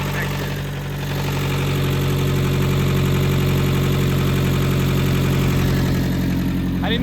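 A Scion tC engine idling rough on only three cylinders with its sensor disconnected, a steady loud uneven drone throughout with a faint voice near the end.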